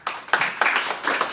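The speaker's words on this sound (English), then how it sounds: "perhaps you should have waited the applause for the end" Brief clapping from a seminar audience welcoming a professor before his lecture, a few bursts of hands with short gaps, fairly close and moderately loud.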